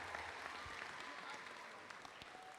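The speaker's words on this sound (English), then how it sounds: "Please give a big round of applause for all the volunteers" Very quiet applause for volunteers at a 2023 FIRST robotics league tournament in Metro Detroit, a soft, distant wash of clapping with a few sharper individual claps poking through.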